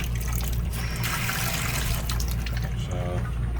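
A Shurflo 12-volt RV water pump runs with a loud, steady low hum while water rushes and splashes from a tap, ending in a short rattling burst.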